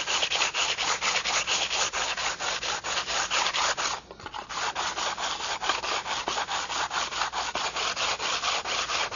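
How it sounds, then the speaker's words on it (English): An 80 grit sanding bar is pushed back and forth across a flat surface on a radio-control model, making a steady, close, rasping scratch in quick regular strokes with a brief pause midway. "So we want to start with 80 grit with a sanding bar."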